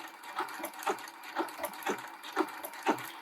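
A sewing machine runs steadily, stitching decorative patterns onto ribbon held against a cloth guide, a quiet rhythmic mechanical whir with regular pulses, close up and with no talk.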